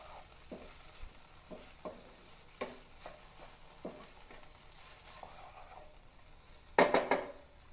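Okra (vendakka) mezhukkupuratti stir-fried in a pan: a steady soft sizzle broken by light scraping stirs every second or so, ending in a louder burst of clattering strokes.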